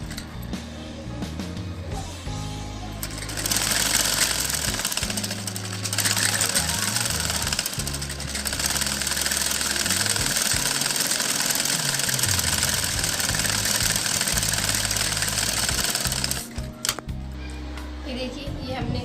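An electric sewing machine stitches kurti fabric in a long, steady, loud whirring run with a rapid mechanical rattle, starting after a few seconds and stopping near the end, while someone talks before and after it.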